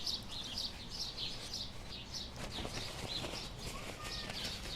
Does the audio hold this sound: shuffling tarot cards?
no